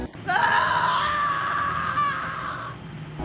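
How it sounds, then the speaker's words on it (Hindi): A man lets out a long, loud scream of terror for a horror story, one sustained wailing cry lasting about three seconds and slowly fading, close and alone without speech. "जोरों से चीख के वहां से"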